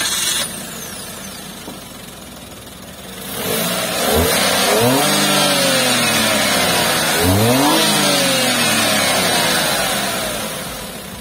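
A Suzuki Wagon R Stingray with a 1000cc K10B engine cranks and catches at close range, then idles and revs with a rising and falling mid-range hum, with no talk.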